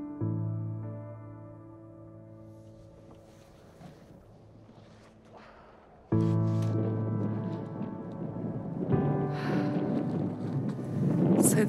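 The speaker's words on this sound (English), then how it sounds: "just as the wind picks up." Wind gusting at a reindeer herders' nomad camp in Siberia, a low rush that swells abruptly partway through and roars into the microphone, loud and close, with no talking.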